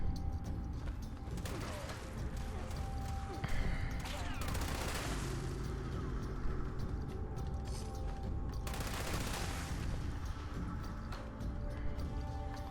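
Sustained, loud gunfire from an explosive light machine gun in Fallout 76, continuous dense rattling bursts with blasts layered throughout, barely pausing across the whole stretch.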